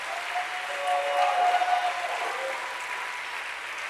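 Audience clapping at a sermon, a steady wash of applause that swells briefly in the middle and then settles, with some faint voices mixed in.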